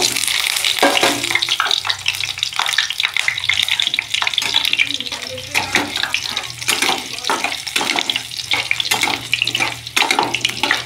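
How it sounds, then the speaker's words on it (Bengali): Pointed gourd pieces land in hot mustard oil, raising a loud, rushing, watery sizzle with bursts and crackles throughout, close up and without talk. "কেটে ধুয়ে রাখা পটলগুলো দিয়ে দেব।"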